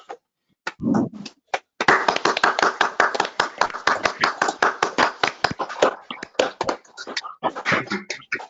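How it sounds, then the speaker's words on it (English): Online meeting participants clap after unmuting, a few separate hands at first, then a brisk run of close, distinct claps that comes through clearly against silence and tapers into scattered claps at the end. "we then can give applause in the traditional way"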